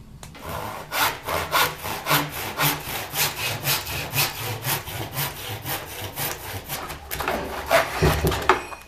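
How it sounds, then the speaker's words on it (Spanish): A handsaw cutting through wood by hand, a steady rhythm of rasping strokes, about two per second, close and fairly loud with no talk, ending in a final heavier stroke. "La única opción que tengo para recortarlo es con el serrucho"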